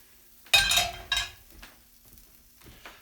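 Sauce is stirred into pasta in a pot, giving two sharp metallic clanks and scrapes close by, then a few quieter utensil taps and soft stirring.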